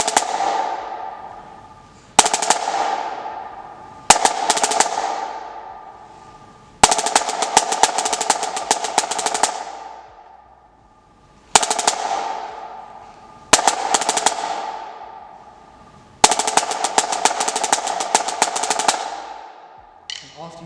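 Snare drum playing SEC Marching Beat 7 at a slow tempo: repeated crisp, rattling strokes and rolls in short phrases separated by brief gaps, loud and close, alone.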